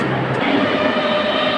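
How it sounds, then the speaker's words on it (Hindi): A metro train rumbles loudly at a station platform, a steady, close, droning roar of wheels and motors with a faint squeal near the start and no talking. "मेट्रो तो आ गई है, ये वाला नहीं लेंगे"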